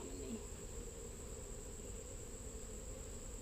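Honey bees swarm a frame during a hive inspection, giving a faint, steady, low buzzing drone that continues without a break under an even background hiss.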